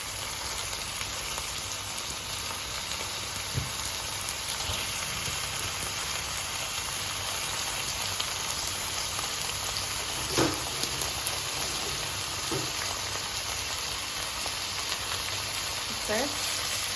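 Chicken frying with onions in a pan for a South Indian chicken masala, a steady soft sizzle with occasional stirring scrapes.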